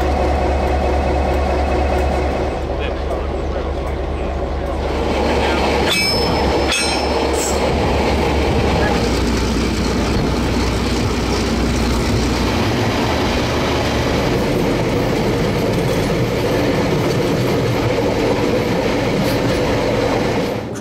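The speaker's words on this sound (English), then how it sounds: "DA1431 ran around the train for the run back into town" A DA class diesel locomotive, number DA1431, hauls a passenger train across the Waimakariri River near Christchurch. The engine rumbles loudly and steadily throughout, with wheel and rail clatter and a brief squeal partway through.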